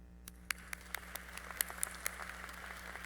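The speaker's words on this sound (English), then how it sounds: "give yourself a round of applause." Scattered, sparse claps from graduates at a 2018 SCC commencement ceremony, a dozen or so distinct hand claps spread unevenly over a few seconds, faint and distant above a steady low hum.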